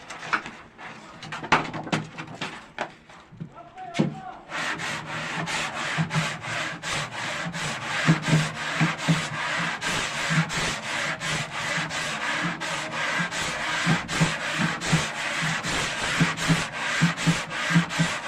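Steady back-and-forth rasping of sandpaper on wood by hand, rhythmic strokes continuing throughout, close up with a few taps at the start.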